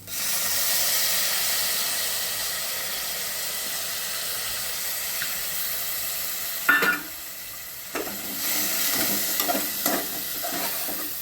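Washed moong dal frying in a pan with onion and spices, a steady sizzling hiss that runs for several seconds, broken by a few clinks and stirring scrapes, then more sizzle as the mix is worked.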